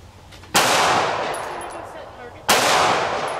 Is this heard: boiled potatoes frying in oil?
no